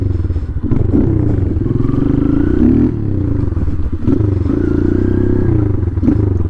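A motorcycle being ridden in a wheelie, its engine droning loud and steady close by with a couple of brief dips as the throttle is rolled off and back on.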